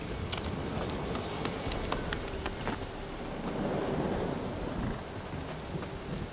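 A thunderstorm in the video game Witcher 3 brings steady dense rain hiss with low rumbling thunder underneath and scattered sharper drop ticks, constant and moderately loud with no speech.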